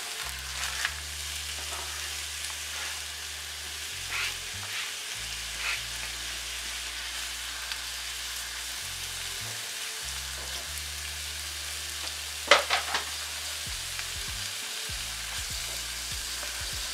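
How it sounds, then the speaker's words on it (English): Onions frying in a stew pan after beef has been browned, a continuous even sizzle with occasional stirring scrapes and a low hum underneath. "Now we'll fry the onions"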